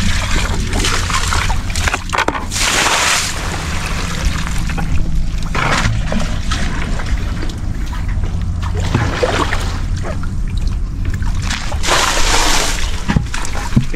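Water sloshes and splashes continuously while a well is bailed out, with repeated bursts of pouring and splattering as containers are emptied, loud and close throughout.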